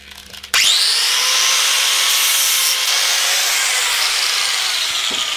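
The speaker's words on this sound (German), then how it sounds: "Und schleifen wir einfach mal etwas ab." An angle grinder bites into a metal thread adapter, starting abruptly with a loud, steady high-pitched hiss and whine that holds continuously to the end.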